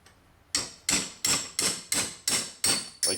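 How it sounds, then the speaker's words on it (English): A hammer strikes a punch to drive out a rear sway bar bushing sleeve on a C4 Corvette: eight sharp metallic knocks at a steady rhythm, close and loud, each ringing briefly after a quiet start. "I've got a hammer and a punch. And I'm going to knock this through."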